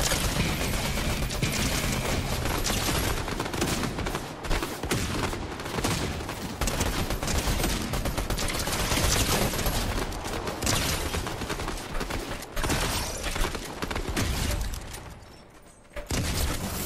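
Gunfire in the video game Fortnite during a Season 4 match, dense sustained bursts and rapid volleys that stay loud and close for the whole stretch, with a short lull near the end and no talk.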